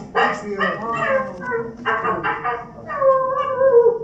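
A voice actor imitates a dog, producing a string of close, loud barks and whimpering yips with short pauses between them.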